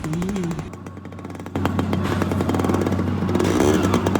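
A motorcycle engine catches after a brief rough start-up, then settles into a steady, loud, close idle with rattling clatter.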